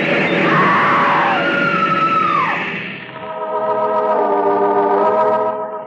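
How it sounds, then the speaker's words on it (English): A woman in a radio drama screams at a train platform as the train grinds to a stop: a loud, long, high wavering shriek, then a second sustained cry that holds to the end. "The woman screams."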